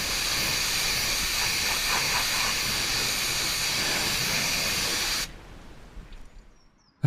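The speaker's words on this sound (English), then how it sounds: "the entire arch was then given one final thorough pressure rinse off to remove any remaining loose dirt particles" A pressure washer sprays a strong, steady hissing rinse over the wheel arch of an Audi R8, running continuously for about five seconds before cutting off abruptly and leaving near silence.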